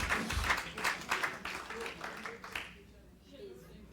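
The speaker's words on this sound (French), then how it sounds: "Can you give a Lord a mighty hand clap, please?" A church congregation claps and cheers loudly for a few seconds, with voices mixed in, before the applause fades away.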